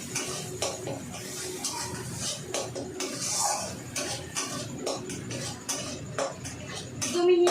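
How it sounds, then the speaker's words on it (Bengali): Eggplant being stirred in a pan over a gas flame, with scraping and clinking of the utensil against the metal pan, steady and close throughout, alongside a faint background hum. "গ্যাসের ফ্লেমটা একটু বাড়িয়ে দিয়ে ভালো করে নাড়াচাড়া করে নেব"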